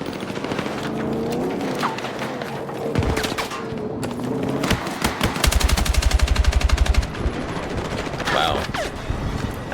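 Video game AK rifle fire: several bursts and rapid automatic volleys over a steady background of in-game noise, with one especially dense, fast stretch of shots near the middle, loud and close.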